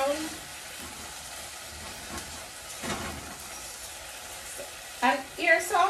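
Mackerel frying with scotch bonnet pepper gives a soft continuous sizzle, with a few scraping stirs of the pan and louder clatter toward the end.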